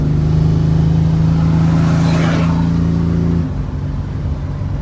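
A car passes on a Texas highway during a long drag-and-drive road trip. A steady low engine drone rises into a loud whoosh as it goes by, then fades quickly, with no talk.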